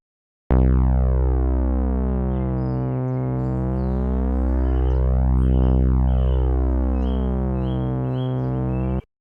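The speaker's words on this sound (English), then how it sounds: "Let's play that C, now adjusted to 64 Hz." A steady, buzzy low synth tone on C tuned to 64 Hz, rich in harmonics, held for about nine seconds at constant loudness, with a faint slow beating from detuning.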